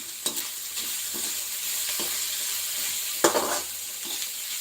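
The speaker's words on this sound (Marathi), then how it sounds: "एकदम लालसर होतं तर छानपणे आपल्याला त्याला तळून घ्यायचं आहे" Onion sizzles steadily in hot oil in a pan while being fried for a gram-leaf curry, with a few sharp stirring clatters and spatula scrapes over the continuous hiss.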